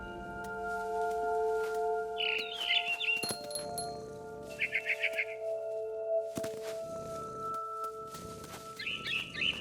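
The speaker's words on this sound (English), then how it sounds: "Then I heard chirping outside my window. It was a barn swallow going back to her nest." Barn swallow chirps from the video game What Remains of Edith Finch, short twittering bursts repeated three times over steady ambient game tones and faint background hum.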